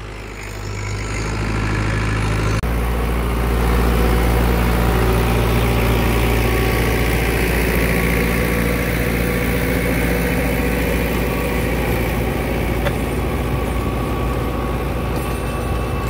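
A Dabang tractor drives a rotavator, its diesel engine droning loud and steady with heavy low-end vibration for the whole stretch, a brief shift near the start, no talking.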